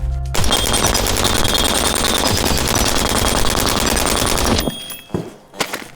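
Lima Six belt-fed machine gun fires a long, loud continuous burst at a plate rack for over four seconds, then stops, leaving a few fainter metallic clanks and handling noises.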